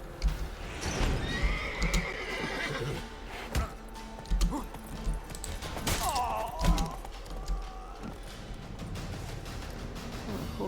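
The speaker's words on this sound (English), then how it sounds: "the horse is a bit cross with me as well" A horse in The Witcher 3 neighs and whinnies loudly several times while hooves clip-clop and thud nearby, with someone talking intermittently over the game sounds.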